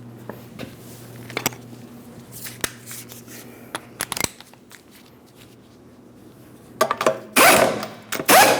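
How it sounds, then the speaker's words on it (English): A torque wrench works on a car's wheel lug nuts on a 2008-2016 Chrysler Town & Country 3.8L V6, giving sharp metallic clicks and ratcheting bursts close by, separated by quiet gaps. "Let's go ahead and torque these lug nuts to that 100 foot-pounds in a crisscross manner."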